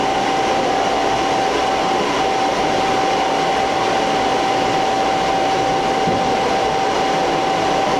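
A hair dryer blows steadily on a styled blow-dry for the whole stretch, loud and close, with a constant airy roar and a thin whine and no talking.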